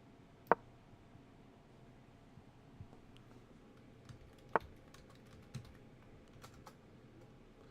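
Quiet typing on a computer keyboard during a livestream: a sparse, irregular run of soft key clicks with a few sharper, louder taps standing out, close and alone with no talking.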